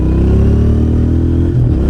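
A Royal Enfield Interceptor 650 motorcycle engine revs loudly up close, its deep throaty tone rising in pitch, then briefly dipping before continuing.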